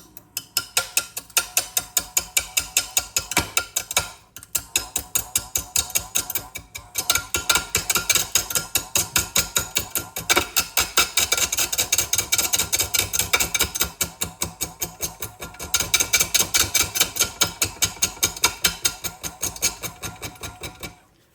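A wood lathe running near 300 RPM turns a bowling ball mounted on a faceplate with the tail center up, the tool cutting in a fast, steady chattering rhythm with a brief pause near the start, close and loud throughout.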